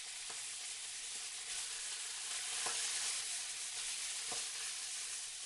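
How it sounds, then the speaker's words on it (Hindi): Tomatoes and green chillies frying with softened onions in a pan, a steady, fairly quiet sizzle with occasional faint stirring clicks and no talking. "अब बारी है टमाटर डालने की और हरी मिर्ची।"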